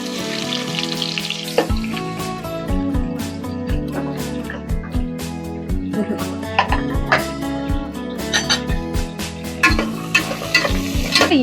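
Sliced onions frying in hot oil for mushroom biryani, sizzling steadily up close while a utensil scrapes and stirs the pan in irregular strokes.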